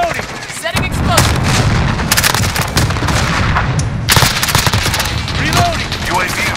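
Rapid gunfire and heavy explosions from Call of Duty combat, loud and dense throughout, with sharp bursts cutting over a continuous rumbling battlefield din.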